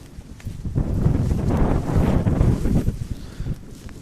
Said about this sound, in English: the wind is going to be their friend as long as they don't overhit it, because it's blowing right in the direction of the goal